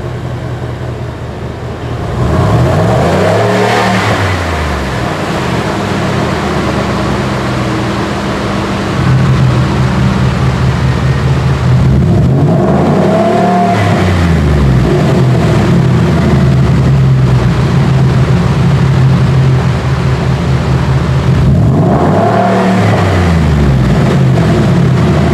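Exhaust of a 2019 Roush F-150 Nitemare pickup cycling through drive modes: a loud, deep, rumbling drone with three big rising-and-falling revs spaced several seconds apart, heard close and without talk.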